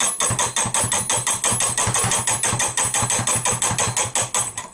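A hand-cranked intermittent sprocket mechanism for movie film, turned as fast as possible, gives off a loud, rapid, regular clatter of mechanical knocks that runs on without pause.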